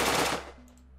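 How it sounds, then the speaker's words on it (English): A short burst of G36C rifle fire from a modded Unturned video game, a loud, sharp blast that rolls off quickly into a fading tail, heard alone without voices. "Here's the G36C."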